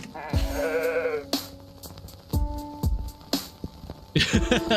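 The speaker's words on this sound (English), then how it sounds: "It sounds like a sheep, or at least a goat." A sheep-like bleat from the PC game Cat Detective Albert Wilde, a wavering, nasal cry lasting about a second, followed by sharper game sound effects and another brief burst near the end.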